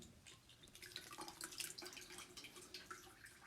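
A heavy metal object sinks in water, giving off a run of small bubbling and dripping sounds, faint and close in a quiet room.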